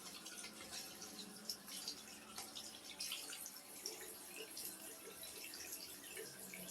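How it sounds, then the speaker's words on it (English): Hot tap water runs steadily into a sink while aquarium parts from a turtle tank are washed, a continuous faint hiss with small splashes and clinks throughout. "Make sure you wash it in hot water and"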